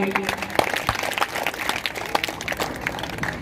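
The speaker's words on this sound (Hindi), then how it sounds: "ताली बजाओ उनके लिए।" At a government senior secondary school's annual function, an audience claps in a loose, scattered patter of hands, moderately loud, with crowd murmur and voices underneath.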